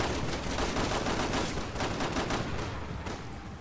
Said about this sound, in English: I'm shooting for you